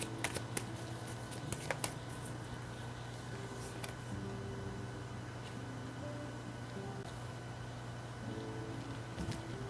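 Oracle keyword cards being shuffled for a tarot reading, faint quick papery riffles and soft slaps clustered at the start, then quieter handling against a low steady hum.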